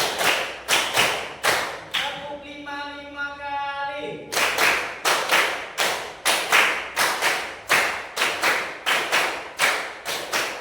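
Rhythmic group hand clapping in a classroom, sharp evenly spaced claps in counted bursts, with a brief sustained tone interrupting partway before the claps resume steadily.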